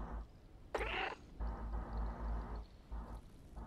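A cat meows in the video game Stray, one loud, bright cry that rises and falls over steady game music and ambience.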